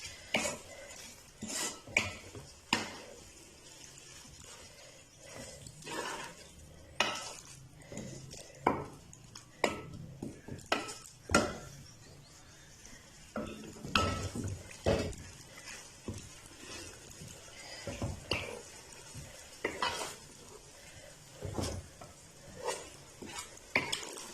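Chicken chow mein is stirred with sauce in a pan: repeated clanking and scraping of a utensil against metal in uneven bursts, with a faint sizzle underneath and no voices.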